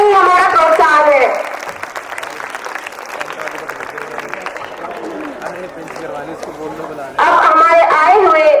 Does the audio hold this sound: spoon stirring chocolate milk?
no